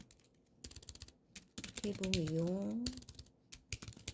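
Quick clicks of typing on a computer keyboard, with a stretch of spoken Korean in the middle that partly masks the keys.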